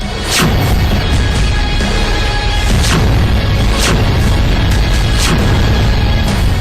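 Loud, continuous rumbling roar with several sharp booms at roughly one-second intervals from the 'Kisan' artillery cannon firing, ringing out over heavy background noise.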